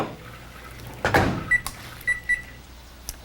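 A microwave oven melting milk chocolate: a door thunks shut, then short bright beeps from the keypad follow in a quick series, close and clear with no talking.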